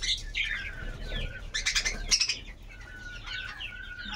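Budgies in a breeding cage chirp and flutter, with quick flapping wing bursts in the middle and scattered high tweets throughout, close and moderately loud.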